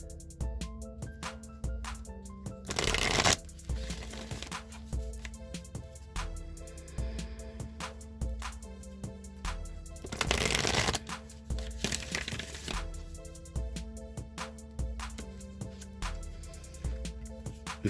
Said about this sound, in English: I am going to shuffle the Wisdom of the Oracle now